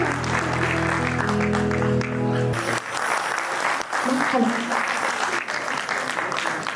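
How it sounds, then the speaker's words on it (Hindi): An audience at a Hindi stage show breaks into steady, full applause as a song's music fades out at the start, and the clapping carries on at an even level. "इतनी कम तालियों में फिर नहीं मानने वाले हैं ये लोग। एक बार जोरदार तालियां।"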